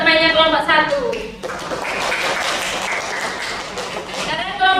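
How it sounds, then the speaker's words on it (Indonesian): A classroom of students claps for the first student group; a teacher's voice is heard at the start and end, and a burst of scattered clapping fills the middle couple of seconds. "Beri aplaus buat temannya kelompok 1."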